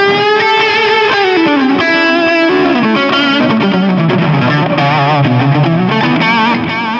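An electric guitar plays through a MOOER Echoverb reverb and delay pedal. Sustained, gritty notes bend and glide, with a washy, effected tone that stays loud and continuous throughout.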